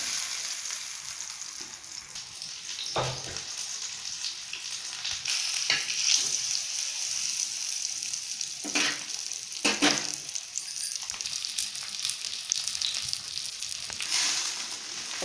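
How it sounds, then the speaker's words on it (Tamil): Tilapia fish frying in a little oil on a flat tawa, a steady close sizzle that runs throughout, broken by a few sharper spatters and scraping turns, no talking. "அதேமாதிரி கொஞ்சமாக எண்ணெய் விட்டுட்டு ஒன்றா நம்ம மீனை பொரிச்சு எடுத்துக்கலாம்"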